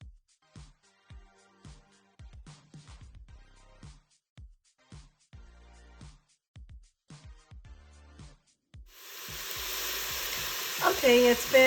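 Onions with carrot and celery for chicken noodle soup in an Instant Pot, first a series of soft stirring knocks and taps, then a rising sizzle of frying that swells loudly near the end.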